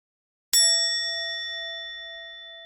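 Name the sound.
KakaoTalk message notification sound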